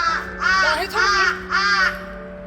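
A crow caws three times in a misty Jeju forest, with harsh, fairly close calls spaced about half a second apart over a faint steady hum.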